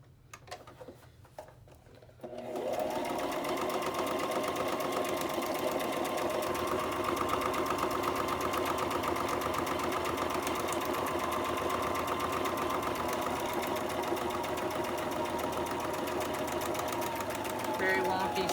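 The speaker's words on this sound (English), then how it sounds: "Sewing machine back out. I'm just gonna do a straight stitch around this pocket." A home sewing machine runs a continuous straight stitch around a fabric pocket for journal work, starting after a couple of seconds of quiet handling and then holding a steady, even mechanical whir up close.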